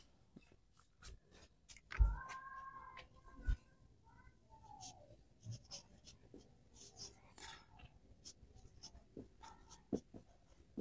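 Pen scratching across paper during a Bengali HSC ICT math lesson, soft intermittent strokes with a few sharper taps, close and quiet, with no talk over it.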